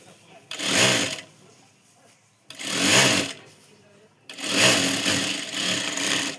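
A sewing machine stitches a katori blouse in three separate bursts of rapid mechanical whirring, each lasting about a second or two, with quiet pauses between them.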